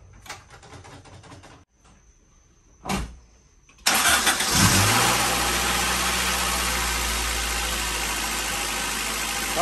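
A Honda B-series car engine cranks briefly after some quiet clicks and rustles, then catches and settles into a steady, even idle that holds to the end, close and fairly loud.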